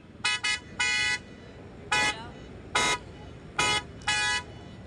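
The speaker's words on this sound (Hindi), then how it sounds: "तो कुछ इस इस तरीके से आपका साउंड सुनाई देता है हेला कंपनी का हॉर्न का" A Hella car horn honks in a series of short and longer blasts, a loud, bright electric tone repeated about seven times with brief gaps.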